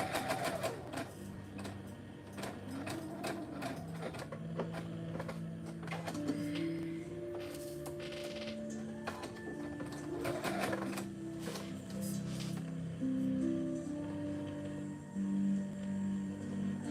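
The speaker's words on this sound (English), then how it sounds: "So I'm just gonna sew around all 4 sides and leave an opening." Sewing machine stitching around the edges of sheer fabric, running in steady mechanical bursts with brief pauses for the whole stretch, close and clear with no talking.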